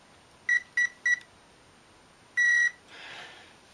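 Two electronic speed controllers on an RC servo winch beep to recognise a 3-cell battery and the motor. Three short clear beeps come first, then a longer tone and a soft hiss, all alone in a quiet room.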